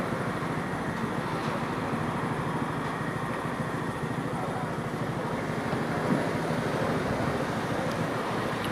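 Steady wind noise rushes across the microphone, a continuous broadband roar with no talking and only slight gusting.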